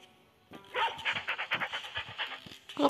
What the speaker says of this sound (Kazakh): Мында ит бар екен.